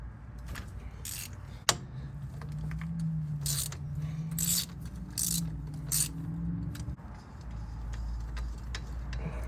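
A spark plug socket with a rubber seal clicks onto a plug during servicing of a John Deere Gator XUV835M, giving one sharp click followed by faint mechanical ticks and rattles over a quiet, low background.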